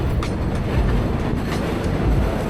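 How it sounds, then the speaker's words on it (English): A 7, N or W subway train rumbles across the elevated tracks near the Queensboro Bridge, a steady, dense roar of rail noise with faint clattering. "I'm slowing it down here for a sec to point out that train crossing"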